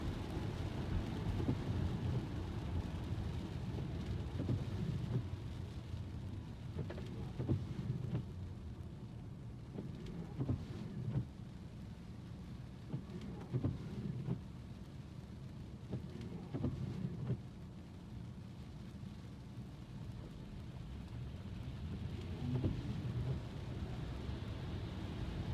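Rain falls steadily on a car during a drive, a dense, even wash of patter with low rumbling underneath, continuous and fairly close, with no voices.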